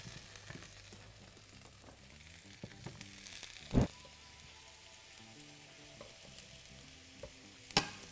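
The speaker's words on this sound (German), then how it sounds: "Dann gebe ich die Kohlrabi-Stücke ins heiße Öl und brate sie während 5 Minuten auf allen Seiten" Kohlrabi pieces frying in hot toasted sesame oil, a soft, low-level sizzle punctuated by a few sharp clatters of stirring or the pan being knocked, with no talk.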